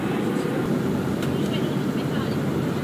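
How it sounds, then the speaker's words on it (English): Airplane cabin noise during flight above the clouds, a steady, loud broadband roar and hiss that continues without change. "Still above the clouds on the plane."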